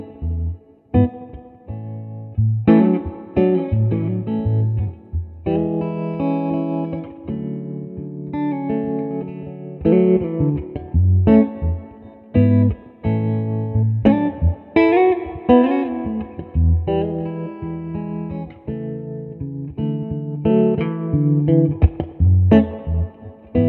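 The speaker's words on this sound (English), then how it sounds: "it will really, really push the front end of your amp into some heavily saturated, really focused screaming lead tones" A Rick Turner Model 1 CP LB Lindsey Buckingham electric guitar plays heavily saturated, focused lead lines through a pushed amp, loud and continuous with sustained notes, bends and reverb, and no talking.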